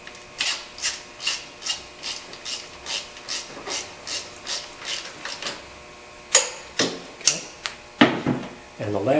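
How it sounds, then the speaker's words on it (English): A ratchet snugs down a spark plug on a 2011 Toyota Tacoma, giving a steady run of evenly spaced ratcheting clicks up close, then a few heavier, sharper clacks toward the end. "then you come over with a ratchet and just tighten it down the rest of the way and snug it"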